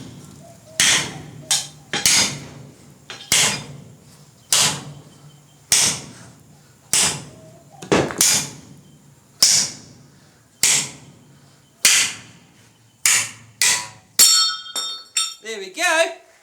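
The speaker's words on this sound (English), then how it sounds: "let's go with the big hammer." A big hammer strikes a steel lawn mower blade gripped in tongs, landing about a dozen loud, ringing metallic blows at a steady rhythm, followed by a quick flurry of lighter clinking taps at the end.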